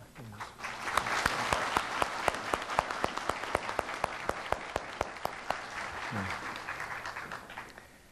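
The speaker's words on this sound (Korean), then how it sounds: "여러분들의 뜨거운 감사의 박수를 한번 보내면 어떨까 합니다." A university entrance ceremony audience applauds the vice president, a crowd's clapping swelling quickly, holding steady with sharp individual claps standing out, then tapering off; brief speech at the start and near the end.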